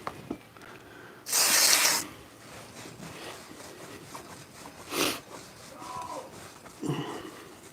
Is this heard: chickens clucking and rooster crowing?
no